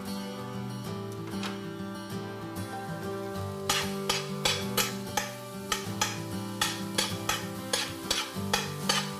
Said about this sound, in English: And just start frying that up.